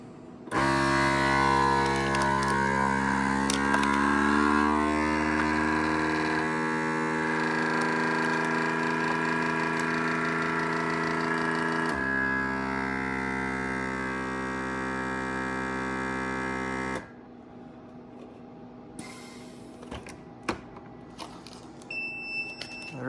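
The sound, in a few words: Cabela's heat sealer sealing packages of deer sausage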